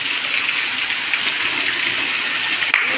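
Water rushes down a waterfall near Budhakhol Temple in Odisha, fed by rain off the hills, a loud, steady roar that fills the whole clip with no one speaking.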